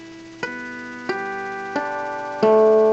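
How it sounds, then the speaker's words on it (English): Four guitar tapping harmonics struck in an even rhythm, each a sharp tap followed by a ringing, chime-like sustained tone, the last one louder, clean with no talking. "A tapping harmonic is simply when you tap a string at a harmonic location,"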